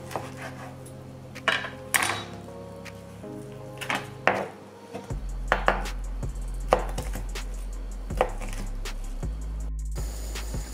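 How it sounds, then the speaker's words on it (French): Knife cutting bacon into small lardons on a wooden board: a steady run of close, crisp chops with irregular spacing, plus occasional utensil clatter and a low kitchen hum underneath. "On fait d'abord des petites tranches, après on coupe dans l'autre sens pour faire des petits lardons"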